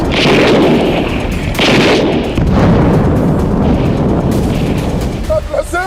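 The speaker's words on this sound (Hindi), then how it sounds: "हिजबुल्ला इजराइल बॉर्डर पर लगे टावर और कमांड सेंटर पर रॉकेट दागता दिख रहा है।" Hezbollah rockets strike towers and a command centre on the Israel border, heard as loud heavy booms and rumbling blasts that fill the whole stretch, with a voice talking over them.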